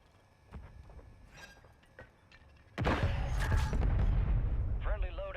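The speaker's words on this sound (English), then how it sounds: "Hostile mortar strike near your position." Mortar strike explosions from the Call of Duty Warzone video game: after a few faint distant thuds, a loud, sustained rumbling blast erupts and roars for several seconds, with an electronic voice callout over the noise.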